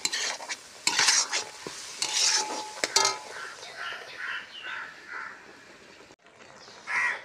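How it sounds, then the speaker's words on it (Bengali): Spices fry with a loud sizzle in a wok while a spoon scrapes and stirs in bursts, the hissing carrying on between the louder stirring strokes. "এখন মশলাটা ভেজে নিই, মশলাটা কড়াইতে দিলাম।"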